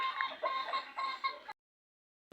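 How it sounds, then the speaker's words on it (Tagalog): Chicken clucking in a rural hillside setting beside an unpaved road, a run of close, fairly loud clucks for about a second and a half, then silence. "Manok guys."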